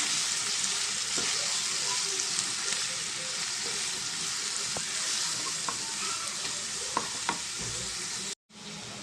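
Onions with salt and turmeric frying in oil for an egg omelette curry, a loud steady sizzle close up with occasional spatula scrapes and taps, briefly cut off near the end.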